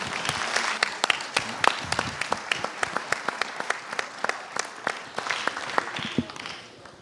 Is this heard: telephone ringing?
no